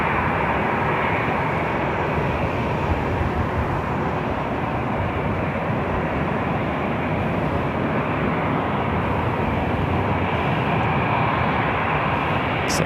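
An airliner arrives at Los Angeles International on a flight from Santa Rosa, California, its engines giving a continuous, even rumbling roar that stays loud and unbroken throughout, with no voices over it.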